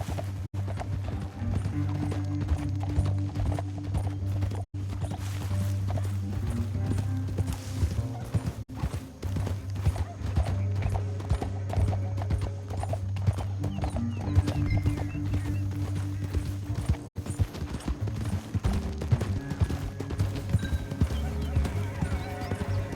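Rapid hoofbeats of horses galloping in the video game Red Dead Redemption 2 drum continuously over a low rumbling background, with voices talking over the galloping throughout.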